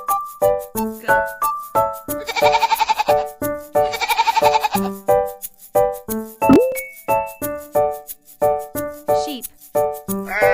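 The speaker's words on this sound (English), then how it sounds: "Goat." A goat bleats in two long, wavering calls that stand out loudly over a bouncy, rhythmic children's music backing with jingling percussion.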